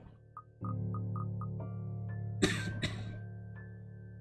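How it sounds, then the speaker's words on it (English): Two close, sharp coughs from a person over a steady electronic music drone from a horror visual novel game, with a few soft tones before them. "Why am I coughing as much?"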